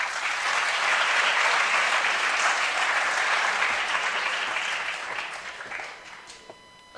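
A school morning-meeting audience gives sustained, dense applause after a presentation, holding steady and then thinning toward the end.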